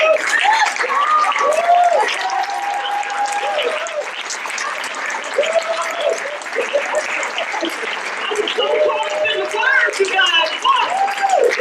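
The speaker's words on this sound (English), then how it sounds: "give her another round of applause." An audience applauds loudly and steadily through the whole stretch, with a thick wash of clapping from a large crowd, while voices carry over it and a few whoops rise near the end.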